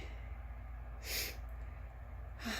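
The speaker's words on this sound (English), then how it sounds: "I'm sorry for the sniffing" Two short, breathy nasal sniffs from someone with a cold, a second or so apart, close and fairly soft, over a steady low background hum.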